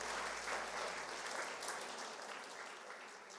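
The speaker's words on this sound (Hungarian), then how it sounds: "gyertek, hogy tapsoljuk meg őket" A congregation at a Hungarian interdenominational worship night fills the room with warm, sustained applause for first-time attendees, loud at first and slowly tapering off, with no speech over it.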